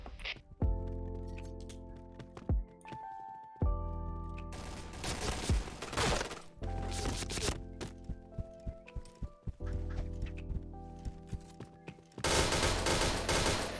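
Gunfire in a first-person shooter video game, with repeated rapid bursts and single cracks over a tonal game music bed, loud and close, ending in a dense sustained volley.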